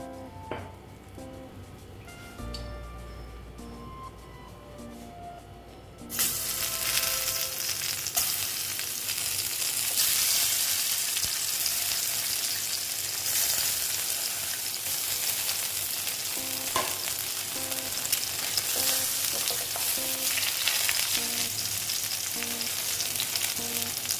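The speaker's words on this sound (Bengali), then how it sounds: "আর একটু তেল দিয়ে দিচ্ছি আর যে কটা আছে ভেজে নেবো" Eggs frying in a pan of hot oil for an egg chochchori, a steady loud crackling sizzle that jumps up sharply when more oil and eggs go in, then continues densely with stirring.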